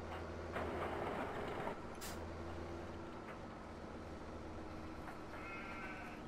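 Sheep bleat in a farm pen in Farming Simulator 17, heard faintly over a steady low machine hum, with a few brief higher calls and clicks.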